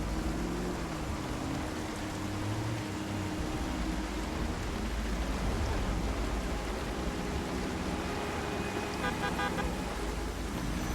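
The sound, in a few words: car horn honking in video game Project Zomboid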